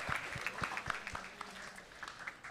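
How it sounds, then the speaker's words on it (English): An audience applauds a scientist at a science talk session, a fairly faint spread of clapping with a few sharper individual claps standing out early on, then settling into a softer, sparser patter. "Big round of applause."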